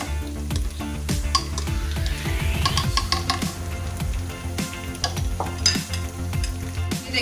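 Onions fry in a pan as the base for kadhi pakora, sizzling steadily while a utensil stirs and scrapes through them with repeated clinks, close and fairly loud with no talking.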